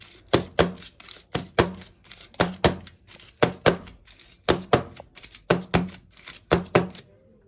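A cake tin filled with Christmas cake batter is knocked repeatedly against a surface, giving sharp close thumps that mostly come in quick pairs with short pauses between, and no talking.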